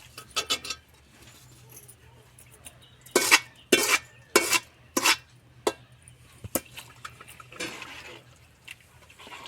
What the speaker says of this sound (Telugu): పోసుకొని ఇక మంచిగా కలుపుకోవాలి